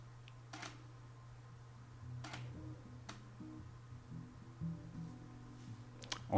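Camera shutter firing during close-up photography of a cabbage, a few faint, sharp clicks spaced apart over a quiet background hum, close and isolated with no voices.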